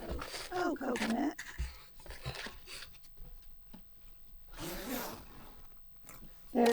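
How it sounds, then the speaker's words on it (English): A zipper is pulled up on a homemade denim jacket, a short raspy zip near the start and another later, close and fairly quiet, with someone speaking between and over the sounds. "So we can zip it up."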